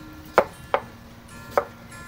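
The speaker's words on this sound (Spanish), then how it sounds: "vamos a picar lo que es, lo que le vamos a poner a las quesadillas, lo que son los ingredientes, lo que son las verduritas" A knife chops vegetables on a cutting board while mushroom quesadillas are being prepared, giving three sharp, close chops spaced irregularly apart over a quiet background.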